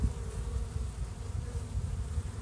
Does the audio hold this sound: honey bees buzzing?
yes